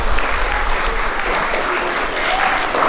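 Applause from an audience at an elementary school arts awards ceremony, a steady dense wash of clapping filling the room for the full stretch, loud and continuous.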